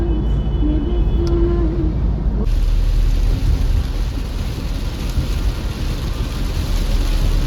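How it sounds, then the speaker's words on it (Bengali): Heavy rain pouring over a car on the road between Durgapur and Asansol, a loud continuous wash of rain and road noise that thickens after a few seconds, with no voices. "দেখো গাইস কত বৃষ্টি রাস্তায়"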